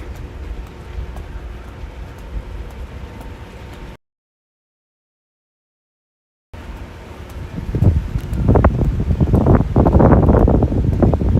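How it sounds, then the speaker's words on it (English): Wind buffets the microphone at a beach in Oahu, Hawaii, in low rumbling gusts, steady at first, then stronger and gustier after a short silent gap. "It's getting a little windy again."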